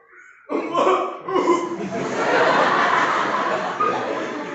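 A voice imitates throat clearing with a couple of gruff bursts, then a rough, breathy stretch that sounds close and fairly loud, like strained laughter.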